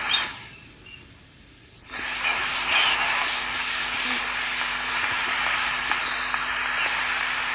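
In the Granny Chapter 2 video game, a helicopter engine starts up after a short quiet pause. It then holds as a loud, steady, close mechanical drone with a whining hum until the end, and no talk is heard.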